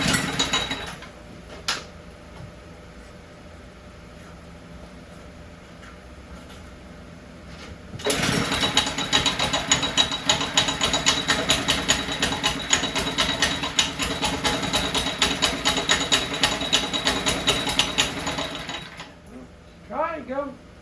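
A vintage Cunningham walk-behind tractor engine, flooded and leaking gas, sits quiet, then cranks into a loud, rapid chugging run for about ten seconds before cutting out, with a brief voice afterward.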